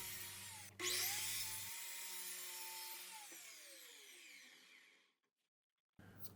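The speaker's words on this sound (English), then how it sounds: "Then it was over to the miter saw to make those cuts that I just marked." A miter saw spins up loudly and cuts through a wooden box lid for a simple keepsake box, the blade whine holding then winding down to silence before another brief burst starts.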